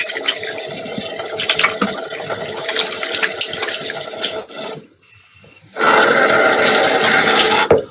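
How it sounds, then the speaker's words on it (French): Water runs strongly while someone rinses off after washing, a loud, close, continuous rush that cuts out briefly to near silence before gushing back at full force. "Attends, il faut que je rince."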